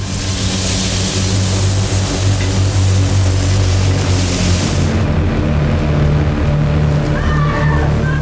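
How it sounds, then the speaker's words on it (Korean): Ceiling fire sprinklers gush water in a horror film scene, a loud, steady broadband hiss over a low rumble that cuts off abruptly partway through, leaving a quieter drone. "천장에서 폭포처럼 쏟아지는 스프링클러 물줄기가 로봇에 노출된 내부 회로로 스며들며"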